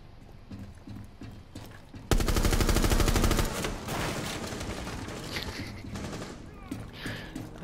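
Rapid video-game gunfire bursts out loudly in a dense volley, then continues as scattered shots and combat noise under a busy, cluttered mix.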